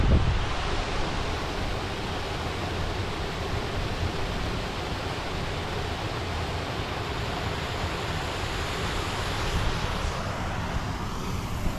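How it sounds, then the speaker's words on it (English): A small waterfall beside a hotel pool rushes in a steady broadband wash, even and continuous throughout, moderately near with no voices over it. "there's a little waterfall."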